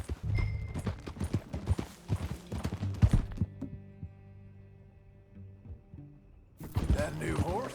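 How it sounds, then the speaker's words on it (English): Horse hooves clip-clop on a road in Red Dead Redemption 2, a quick irregular clatter of hoofbeats that slows and fades into a low hum, then picks up again, with voices talking over parts of it. "That a new horse?"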